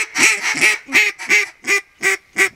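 Ducks call on Duck Creek during a hunt, a loud, close series of about seven raspy quacks in an even rhythm, each a short nasal burst separated by brief gaps.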